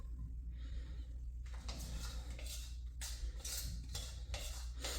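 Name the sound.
scraping a mixing bowl with a spoon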